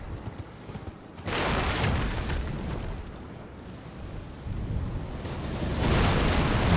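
Continuous rumbling booms and blasts of heavy gunfire roll on without pause, loud and dense, as cannon turrets in front of a castle fire repeatedly in Elden Ring.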